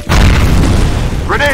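A loud, close grenade blast in the F.E.A.R. Combat shooter booms at once and rumbles on briefly, with a short shout from a voice near the end.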